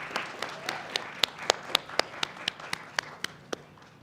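A small audience claps sparsely for a new doctoral graduate at a university graduation ceremony, with a dozen distinct, evenly spaced sharp claps standing out close by over a soft, scattered clapping bed.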